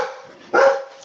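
Dogs bark at something that moved outside: one sharp, loud, close bark rises out of lower growling noise, and no one speaks.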